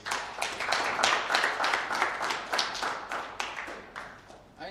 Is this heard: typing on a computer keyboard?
no